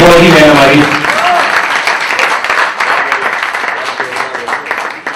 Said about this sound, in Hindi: इनके लिए विशेष तालियां बजाइए